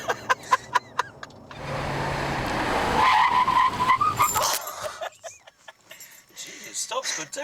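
A car braking hard, its tires skidding in a long rising squeal over engine noise, with people talking before and after the stop.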